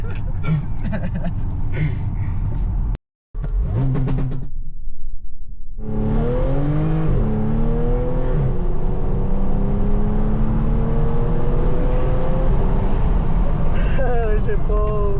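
A supercharged Audi S4 at a Portland street takeover accelerates hard with a loud, rising engine pull through several gear-like sweeps after a brief cutout, close and continuous, with voices talking over it.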